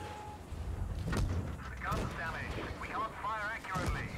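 Tank cannon shots in the mobile game World of Tanks Blitz: two or three sharp, booming reports spaced about a second apart, with rumbling tails and whirring effects between them, close and loud with a voice speaking alongside.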